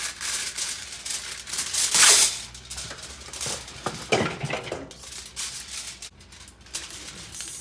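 A small saucepan is moved and handled in a kitchen, with clattering metal knocks, scrapes and light clinks scattered irregularly, one sharper bang near the start, loud and close with no voices.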